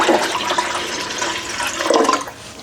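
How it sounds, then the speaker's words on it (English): Water pours steadily into a pressure canner while turkey broth is being canned, a continuous rushing, splashing flow that stays loud and close for the whole stretch with no talking. "I do need to add some water"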